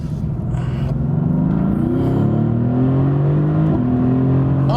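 A 2015 Mercedes-AMG GT S engine pulls hard toward the red line, a loud, close, rising roar that dips briefly at a shift and then climbs again, with no talk.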